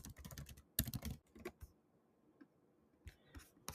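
Someone types on a computer keyboard while building a website chatbot: clusters of quick, crisp keystrokes come in uneven bursts, then a quiet pause, then a few more clicks.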